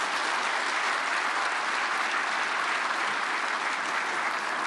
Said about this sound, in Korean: 우리 선교사님 박수로 환영해 주시길 바랍니다